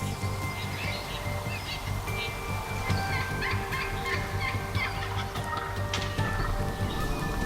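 Wild turkeys gobbling outdoors, several birds calling in overlapping bursts over a steady low background hum, continuous and moderately loud with no voices.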